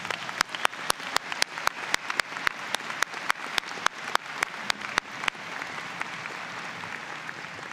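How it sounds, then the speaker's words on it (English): Sharp, evenly spaced audience claps at a university convocation ring out for about five seconds, then fade to a soft, hushed room tone. "let's give them a great big round of applause."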